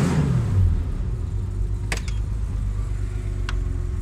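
Car exhaust fitted with an aftermarket muffler, a deep rumble that rises in a brief rev at the start and then settles into a steady low drone, close by with a couple of faint clicks.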